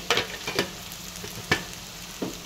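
Ivy gourd (dondakaya) frying in a pan, a soft continuous sizzle broken by a few distinct scraping stir strokes, close and fairly quiet, no talking.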